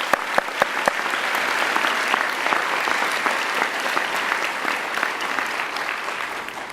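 Applause at a 2019 college honors convocation for Dean's List students and honor society inductees, steady dense clapping from a large audience with a few sharp claps standing out near the start.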